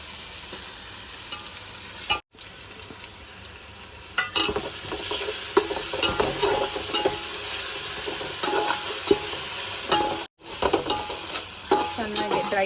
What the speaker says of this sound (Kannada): ಚೆನ್ನಾಗಿ ಡ್ರೈ ಫ್ರೈ ಮಾಡ್ಕೊಳ್ತಿದ್ದಾರೆ